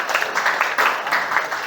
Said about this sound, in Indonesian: Tepuk tangan buat Isna ini.